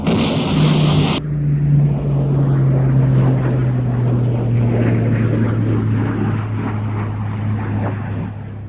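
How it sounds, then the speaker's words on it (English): A Supermarine Spitfire flies past at an airshow with engine power on. Its loud, droning propeller roar holds steady and slowly shifts in pitch as it passes, with no talk. "Now what we can see there is a Spitfire keeping the power on."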